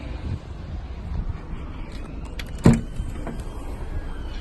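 A Hyundai i20 hatchback's boot is opened, with a quiet mechanical shuffle followed by one sharp latch clunk near the middle and a soft rustle after, close by and without talking.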